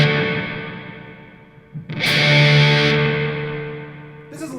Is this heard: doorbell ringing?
no